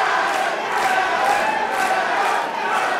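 A pro wrestling crowd cheering and chanting at a live wrestling tournament event, a loud, dense roar of many voices with rhythmic swells, close and sustained throughout.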